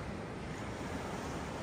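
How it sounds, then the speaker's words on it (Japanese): Steady, continuous wash of sea waves on a sandy beach at Sosu in Kunigami, Okinawa, a broad unbroken roar of surf with wind noise mixed in and no voices. "海ですね。"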